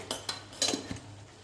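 A spoon clinks against a metal pot or dish while sugar is added to sukhi bhaji, a few light, quick taps, faint and close, with no talking.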